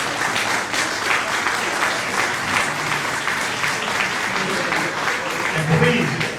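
Crowd at an election rally in the Portuguese Club applauding the candidates, a sustained, even wash of clapping for several seconds with murmuring voices underneath.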